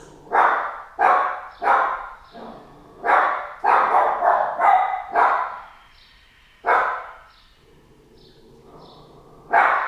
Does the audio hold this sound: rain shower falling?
no